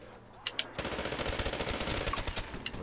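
PPSh submachine gun firing in Call of Duty zombies on the Verruckt map, a rapid, continuous burst of loud close shots after a couple of isolated pops, with other game sounds behind.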